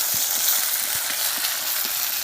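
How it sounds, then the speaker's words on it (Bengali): A large onion sizzles in hot oil in a kadai with dried red chili and cumin seeds, a steady, moderately loud frying hiss with faint stirring taps underneath and no voices. "দিয়ে দিচ্ছি একটা বড় পেঁয়াজ"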